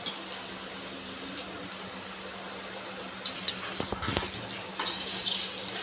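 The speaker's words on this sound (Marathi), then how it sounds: "गॅस थोडा मिडियम करते आता एक साईड आपण चांगली भाजून घेऊ" Soybean vadas fry in oil in a pan over medium heat, giving a continuous sizzling hiss with a few light clicks and spatters toward the end.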